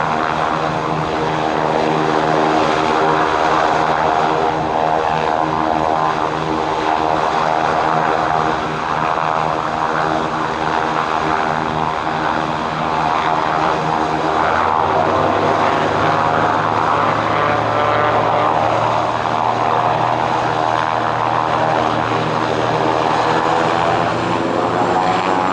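A Cirrus single-engine propeller plane takes off from runway 26 left at Spirit of St. Louis Airport, its engine droning loud and steady throughout, with a deepening low tone about halfway through.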